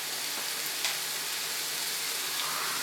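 Onions and bulgur fry in a pan with a dense, steady sizzle that hisses evenly throughout, close up and fairly loud, with one brief crackle and no voices.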